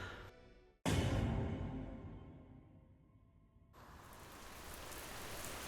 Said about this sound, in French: Quel bonheur cette pluie.